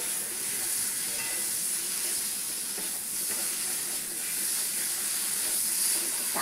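Potatoes frying in spiced masala for a rui fish curry, a steady broad sizzle and hiss with faint stirring scrapes, close and continuous with no talking.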